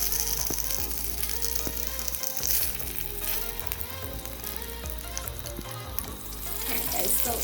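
Spaghetti sauce for spaghetti and meatballs bubbles and pops in a pan, a dense crackling sizzle with scattered sharp spits and occasional stirring scrapes, close and continuous throughout.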